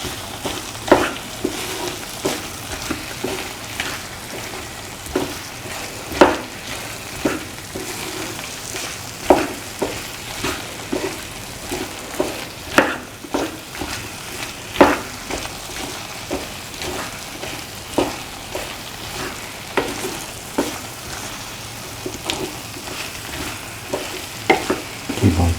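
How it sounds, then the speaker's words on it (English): Plantain and cashew stir fry sautéing in a pan gives a constant sizzle, broken by regular sharp clacks and scrapes of a spoon stirring against the pan, close and steady throughout with no voices. "Keep on sauteing for around 15 minutes until plantain and the rest of the ingredients"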